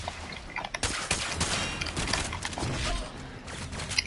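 In the Warframe video game, the Attica weapon fires as a rapid fusillade of sharp shots, dense bursts with the trigger held, loud and continuous over a few seconds with no voice on top.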